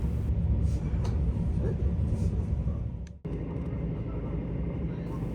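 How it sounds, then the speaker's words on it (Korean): A passenger train runs at speed between Jungni station in Masan and Hwamyeong in Busan, a steady low rumble from inside the carriage with one brief dropout before the drone resumes. "마산에 있는 중리역을 출발한 기차는 부산의 화명역을 향해서 빠른 속도로 달려가고 있습니다."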